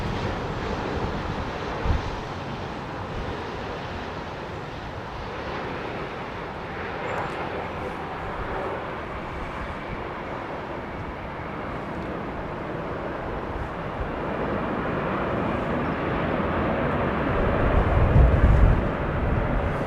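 An airliner on a gusty approach to Heathrow Airport drones in the distance beneath heavy wind buffeting on the microphone, with the rumble swelling louder near the end.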